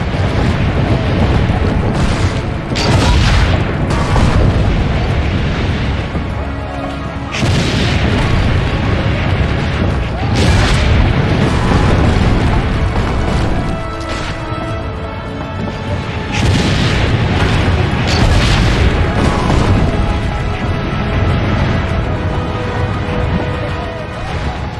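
Repeated heavy cannon booms in the Assassin's Creed Brotherhood video game, loud blasts recurring every few seconds over a dense rumbling battle backdrop.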